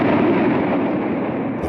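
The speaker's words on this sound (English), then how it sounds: "India began to fire the massive Bofors guns to drive Pakistan out of Kargil" Bofors FH-77B artillery guns firing in the Kargil conflict, heard as a dense, sustained low rumble and roar with no distinct separate shots, loud and steady throughout.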